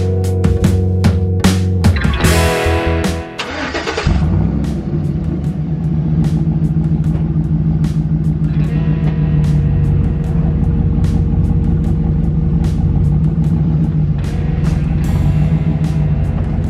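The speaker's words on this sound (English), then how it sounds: "I can back the truck up into the shop" A truck engine rumbles loudly and close by while backing into a shop, settling into a steady idle after a few sharp clanks and a brief surge near the start.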